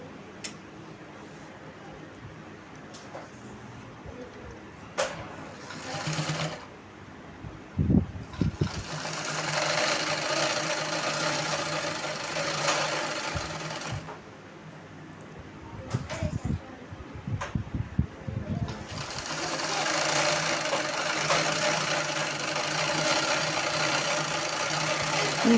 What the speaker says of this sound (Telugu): ఇప్పుడు ఇటు సైడ్ తిప్పుకొని స్ట్రైట్గా స్టిచ్ చేసేయాలండి.